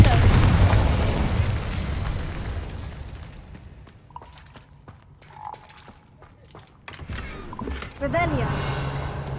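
Confringo and Incendio spells from the Hogwarts Legacy video game set off booming explosions and fiery bursts, loudest at the start and returning later, with a voice talking over the game sound.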